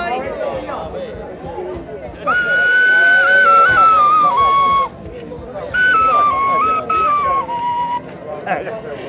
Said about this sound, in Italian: Facciamolo suonare questo. Eccolo qua. Eccolo qua il fischietto